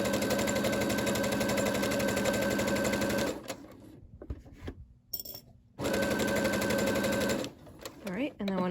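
Brother SE600 sewing machine stitching a fabric napkin, a loud, rapid mechanical whirring chatter that runs for several seconds, stops with quieter handling noises and a voice, then resumes before halting again.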